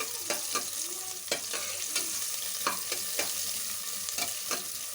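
Two large chopped onions fry in a pan, a continuous close sizzle broken by repeated sharp clinks and scrapes of a spoon stirring, with no voices.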